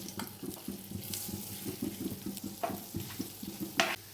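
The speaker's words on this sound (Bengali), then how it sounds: "এবার আমরা ম্যারিনেট করা পনিরগুলোকে একটু ভেজে নেব" Marinated paneer pieces frying in hot oil in a frying pan, a steady close sizzle broken by scraping stirs and a few sharp clatters of a spatula, with no voices.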